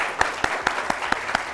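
Studio audience applause on a morning TV show for a winner, with sharp, evenly spaced louder claps cutting through a steady clapping background.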